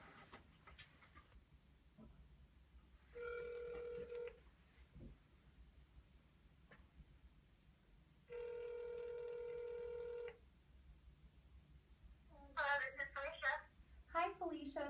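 A phone call is placed over a speakerphone: two long, steady ringback tones sound a few seconds apart against faint background hiss, and voices begin talking just afterward.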